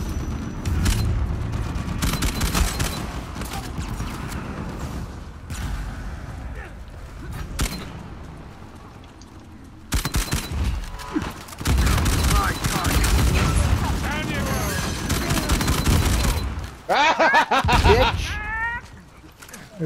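Uncharted 4 gameplay with grenade explosions and rattling gunfire: loud bursts and booms come in uneven clusters, separated by brief lulls, over a busy game soundscape.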